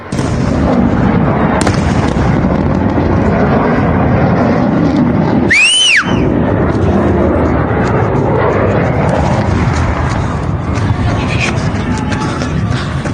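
Loud, continuous roar of fighter jets attacking during a pilot rescue in the Iran–Israel war, with a jet passing overhead midway and shelling thudding through it, under heavy talk.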